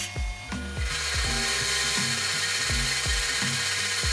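A saw fitted with a 3D printed blade, already missing many teeth, chews through 3 mm plywood. It makes a loud, close, rhythmic series of rough rasping strokes, roughly two per second, over a steady mechanical whir.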